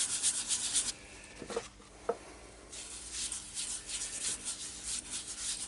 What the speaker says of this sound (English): Just rub that in for a minute or two without the lathe running.